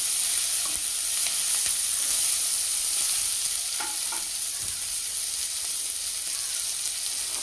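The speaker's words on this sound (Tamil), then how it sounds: "இப்போ வெங்காயத்தை போட்டுடலாம்" Onions and a bay leaf frying in a pan for a paneer curry make a steady, bright sizzle with faint stirring scrapes, close and continuous with no talking.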